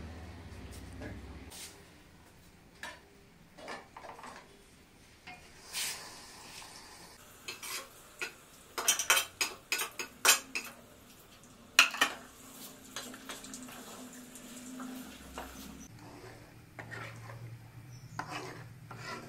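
Fish pickle masala for korramenu is stirred in a pan, a spoon clinking and scraping against the metal in quick bursts, then quieter rubbing, close up with faint frying underneath.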